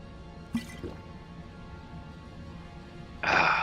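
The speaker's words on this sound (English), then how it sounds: "A little bit of water should do." Water is poured or drunk in the video game Skyrim: a couple of small liquid drips early on, a quiet stretch, then a short burst of splashy pouring at the end.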